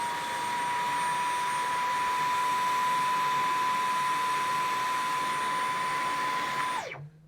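A Dyson V12 cordless vacuum cleaner runs on medium mode with a steady, high-pitched whine and airy rush, holding constant for several seconds before it abruptly powers down near the end.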